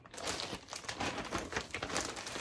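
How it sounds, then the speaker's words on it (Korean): Plastic bags being handled and crinkled up close, a busy stream of rustling crackles with no talking. "제가 이렇게 모아둔 비닐팩이 있어요. 이 비닐팩에다가"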